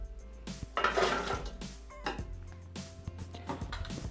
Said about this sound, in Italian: Iniziamo la ricetta mettendo all'interno del boccale i wafer